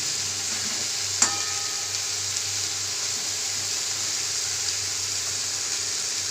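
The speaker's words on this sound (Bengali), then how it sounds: "পেঁয়াজের যে মশলা গ্রেভিটা হয়ে গেছিলো সেইটার সঙ্গে ভালো করে কষিয়ে নিলাম বেগুনটাকে।" Eggplant fries in an onion masala gravy in a pan, giving a steady, even sizzle with one sharp clink of a utensil partway through.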